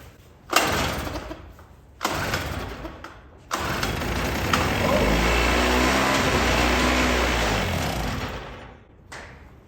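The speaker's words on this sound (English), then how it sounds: "that was running off of starting fluid, but hey, it's running" A Chicago Electric two-stroke generator left abandoned for ten years, running on starting fluid, catches with a few sharp bursts and then settles into a steady, close, loud rough run for several seconds before dying away.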